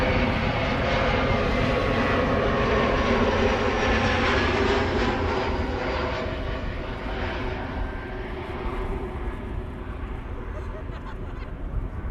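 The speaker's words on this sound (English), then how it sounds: "777-300 arriving from Sao Paulo, KLM flight 792" A KLM Boeing 777-300 lands at Amsterdam Schiphol, arriving from Sao Paulo, its loud broad engine roar rising early and then slowly easing and thinning, with no talk over it.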